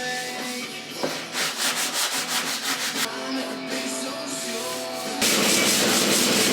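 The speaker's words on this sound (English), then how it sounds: "this is first time being sanded, block sanded from that body line to this body line" Sanding block rubs back and forth over Bondo body filler on a Toyota MR2 front bumper, rhythmic close scraping strokes, then a steadier, louder grinding rasp toward the end, with no talk.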